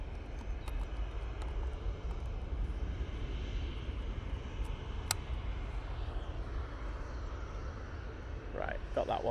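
A jet at Manchester Airport rotates on takeoff with a sustained, moderately loud engine roar, a distant low rumble under light background noise, while a person talks briefly near the end.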